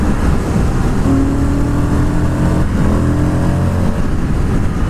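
A 2020 Indian FTR 1200 V-twin motorcycle engine runs at a steady lumpy drone under ride, with heavy wind rush throughout.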